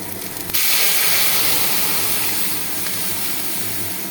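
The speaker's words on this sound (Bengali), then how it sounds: "আমি ডালটা ঢেলে দিচ্ছি।" Chana dal poured into a hot pan of oil, setting off an abrupt loud hissing sizzle that stays strong and steady for several seconds, close and without voices.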